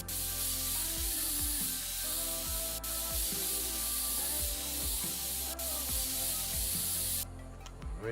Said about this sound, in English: As you see, it's not the strongest can of compressed air